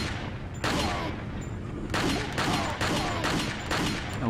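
Pistol gunfire in the video game Resident Evil 4: a rapid series of loud, close shots with reverberant tails, firing in quick bursts against a busy game soundscape.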